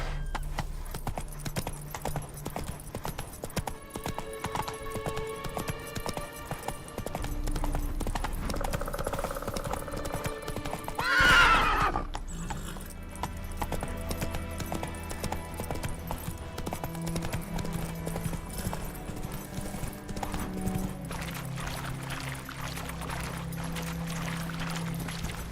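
Horse hooves clip-clop in a rhythmic gallop in The Witcher 3, played on Death March difficulty, steady and close, with a brief neigh partway through over game music and ambience.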